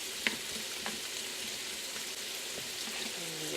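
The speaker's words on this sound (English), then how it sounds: "Let's go ahead and stir up our potatoes." Potatoes stirred while cooking over low heat in a pan, a soft continuous frying hiss with one sharp utensil click and a few faint stirring scrapes, steady and quiet.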